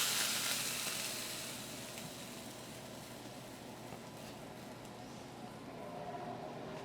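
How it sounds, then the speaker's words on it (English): Smoking-hot fat poured over a reverse-seared steak sets off a bright, hissing sizzle that is loudest at first and then settles into a steady crackle in a kitchen. "This is going to give it a nice little sizzle"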